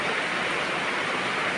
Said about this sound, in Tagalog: Dahil sa sobrang lakas ng ulan, walang tigil ng ulan.